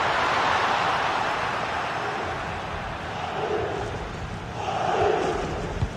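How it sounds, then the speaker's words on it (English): A big stadium crowd roars steadily at a football match as a side pushes for an equaliser, the dense cheering swelling again near the end with no voice rising clearly above it. "Well, just listen to the crowd."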